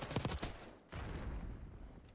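Gunfire from a gunfight in a shooter video game match, with a burst of rapid shots followed by a rumbling wash of continued fire, somewhat distant and moderately loud.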